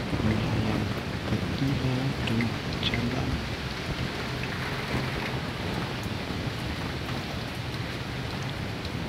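Rain falls on a wet yard where chickens forage, a soft, continuous patter with a faint low rumble, steady throughout and fairly quiet.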